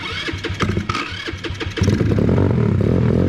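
GY6 scooter engine being cranked with a few choppy starter bursts before it catches and settles into a loud, steady, close-up idle with a rough, rattling note.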